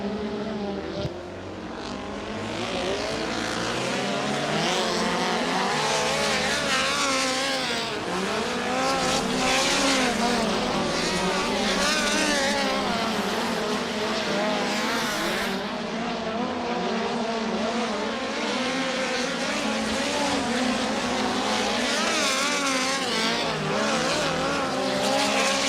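Sprint cars roar around Angell Park Speedway on qualifying laps, a loud, continuous engine howl rising and falling in pitch as they pass, with sustained high-revving throttle throughout.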